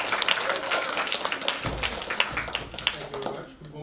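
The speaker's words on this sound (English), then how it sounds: "we'd like to round of applause for Officer Robinson" A round of applause from a group at a talk by a police officer, brisk scattered clapping mixed with a few voices in the background.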